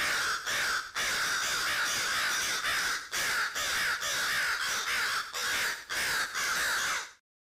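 A crow caws over and over from a played sound effect: a loud, harsh caw roughly every half second to second for about seven seconds, then an abrupt cut to silence.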